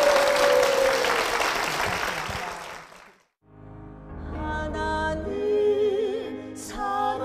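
A church congregation applauds loudly for about three seconds, the clapping fading out before music with a sung voice follows.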